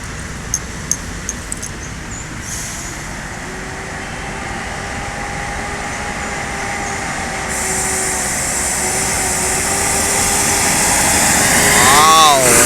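A Putra Pelangi bus, with a Mercedes-Benz OH 1626 chassis mentioned nearby, runs with a steady engine drone and airy hum that builds toward the end. A few sharp clicks come early, and a brief tonal whine follows.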